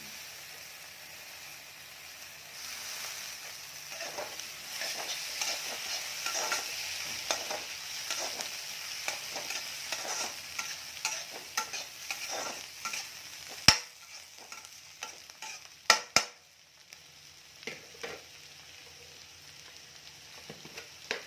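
Onions and tomato frying in a pan for egg curry, with a steady hissing sizzle and rhythmic spatula scrapes. The sizzle drops away near the end, leaving a few sharp clanks.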